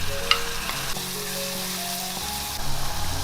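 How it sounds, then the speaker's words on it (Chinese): Minced garlic frying in hot oil in a wok, a steady close sizzle and crackle with faint stirring scrapes, with no talking. "我们来起锅热油，油温不要太高，就把蒜蓉放进来炸"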